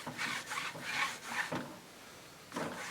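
Clear antique beeswax furniture polish rubbed onto a wooden picture frame, soft scrubbing strokes in rhythmic bursts with a brief pause, close and quiet.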